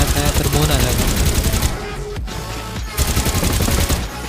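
Rapid bursts of gunfire in the shooter game Farlight84 crackle loudly and densely throughout, briefly thinning in the middle before resuming, with speech mixed in.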